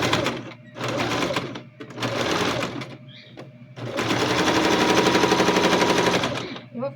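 A sewing machine stitches along the edge of a backpack lining, running in several bursts of rapid mechanical chatter separated by short pauses, with the final run the longest.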